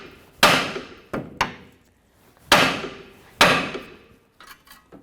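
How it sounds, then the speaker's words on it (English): Hammer taps on the steering knuckle of a 2008-2012 Jeep Liberty during front CV axle removal: four or five sharp metallic strikes, close and loud, in uneven pairs, with quieter knocks at the end. "I'm going to give it a tap on the knuckle."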